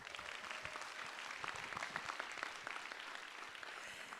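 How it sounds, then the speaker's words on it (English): Applause from a seated debate audience, a steady wash of many hands clapping, heard from a distance and fairly faint, continuing evenly throughout. "Another round of applause."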